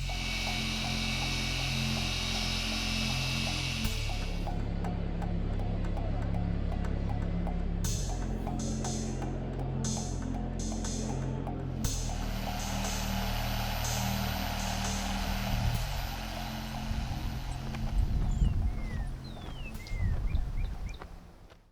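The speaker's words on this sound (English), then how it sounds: "we're going to take a look at this Ryobi 18V hybrid forced air propane heater." A Ryobi 18V hybrid forced-air propane heater runs steadily, a continuous loud fan roar with a low hum that shifts slightly in tone partway through and stays constant throughout.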